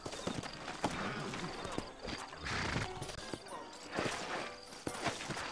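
Steady hoofbeats clip-clop along at a walking pace in Red Dead Redemption, with a horse snorting now and then and someone talking over them.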